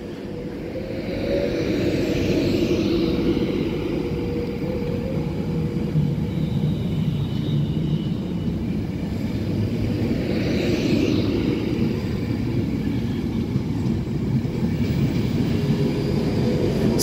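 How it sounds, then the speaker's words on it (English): Avanti West Coast train 390011 from London Euston to Manchester Piccadilly passes at Stockport with a loud, sustained rumbling roar and rushing wind noise, holding steady for the whole stretch with faint higher whooshes rising and fading twice. "Avanti West Coast from London Euston to Manchester Piccadilly"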